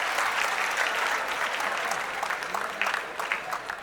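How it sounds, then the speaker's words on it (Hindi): Crowd at a Bihar development forum applauds the honored guests, among them the state industry minister; a short burst of dense, steady clapping that thins slightly toward the end. "एक बार जोरदार तालियों के साथ आप भी अतिथियों का सम्मान करें।"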